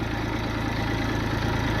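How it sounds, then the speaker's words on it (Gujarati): A tractor engine idles steadily at close range, a continuous low, even rumble with a slight rhythmic throb and no voices over it. "આ ટ્રેક્ટર લઈને હેડ્યા છીએ"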